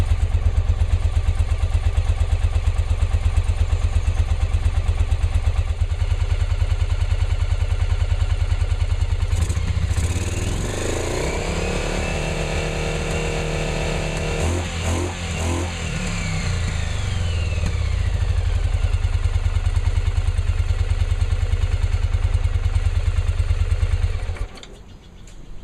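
Yamaha Virago motorcycle engine idling steadily and close after a carburetor install, with a rising rev and clattery throttle blips partway through before settling back and cutting off near the end.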